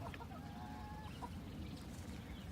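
Chickens on a fresh patch of green pasture, with a few short, faint clucks and chirps early on over steady outdoor background noise.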